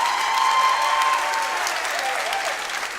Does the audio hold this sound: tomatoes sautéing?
no